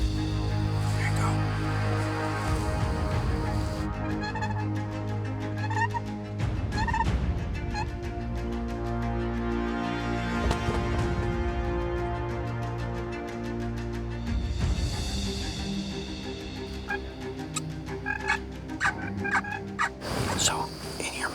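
Wild turkeys gobble repeatedly in Wisconsin woods during a turkey hunt, loud rattling calls bursting out in overlapping waves over the whole stretch, fairly close and with no talking.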